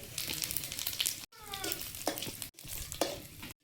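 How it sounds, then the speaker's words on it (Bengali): Dried red chillies and whole cumin seeds tempered in hot oil for dal, a steady close sizzle and crackle with stirring, broken by two brief cuts, no talk. "ফোড়ন দেওয়া হবে। শুকনো লঙ্কা, গোটা জিরে,"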